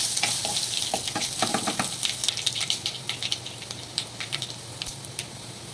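Mustard seeds, cumin, garlic and dried red chillies frying in hot oil for gongura pachadi, a dense sizzle with rapid popping crackles that thin out toward the end.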